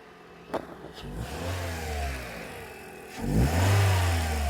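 A naturally aspirated four-cylinder Toyota Corolla engine with about 140,000 km running close by, revving up twice with a rising whine, settling back toward idle between the pulls.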